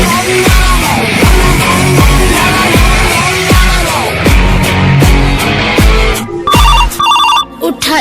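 A telephone ringtone plays loudly and repeatedly against a busy backdrop of rhythmic music-like beats, continuing for several seconds in a comic household scene.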